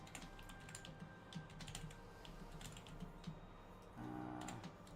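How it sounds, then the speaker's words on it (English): Typing on a computer keyboard, a quick run of light key clicks at close range over a low background hum, then a brief burst of louder tonal noise near the end. "I'll type it down into the chat."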